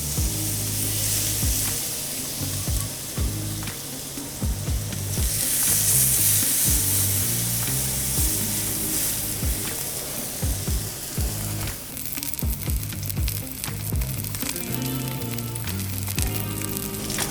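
Blackened salmon fillet sears seasoned side down in an oiled pan on the stove, a loud continuous sizzle with crackling spits and occasional utensil clinks, no talking over it.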